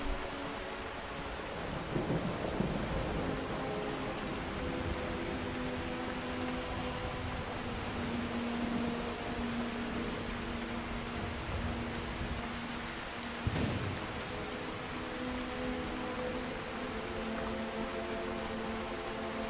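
Steady rain pours through a thunderstorm in the Skyrim video game, a dense hiss with low rumbles of thunder rolling in around the middle and again later, no voices heard.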